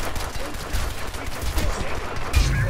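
Gunfire in the PC shooter Crysis 2 comes as rapid, overlapping shots that make a dense crackling barrage, with heavier thumps near the end.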